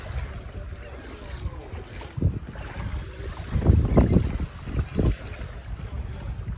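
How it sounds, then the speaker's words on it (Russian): A boat moves across open water near an island, with heavy wind buffeting the microphone and surging wash and wave noise rising and falling. "Наша лодка."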